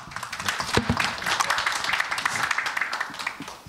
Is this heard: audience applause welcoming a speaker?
yes